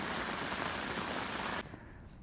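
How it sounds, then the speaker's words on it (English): Torrential rain pours down hard in a dense, steady hiss that cuts off abruptly near the end, leaving a quieter wash of rain behind. "There's torrential rain."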